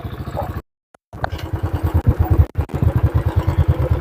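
A small engine vehicle drives along a rural countryside road near Ban Kok Kue, Kui Buri, its motor pulsing in a steady low chug with rattling clatter, briefly cutting out before resuming.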